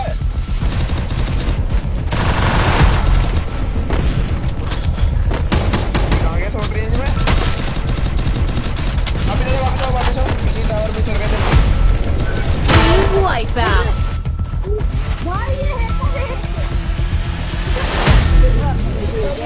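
Dense gunfire with a grenade explosion in a battle royale video game: rapid automatic bursts and booming blasts pile up continuously and loudly, with a voice speaking faintly underneath.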